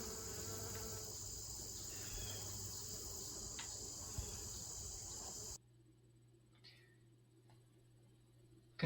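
Honeybees and bumblebees buzz among blooming jewelweed flowers in a meadow patch, a faint, steady insect drone with soft outdoor background hum that drops quieter partway through.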